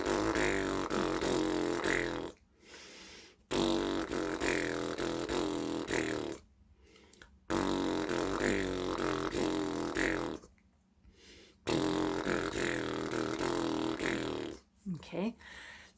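A voice buzzes its lips away from a didgeridoo to mimic a five-eight didgeridoo rhythm, a droning, pulsing figure in four long phrases separated by short breath pauses.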